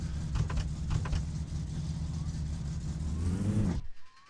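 A car engine revs steadily at high RPM in the driving game My Summer Car, a loud sustained drone with rising pitch near the end before cutting off abruptly.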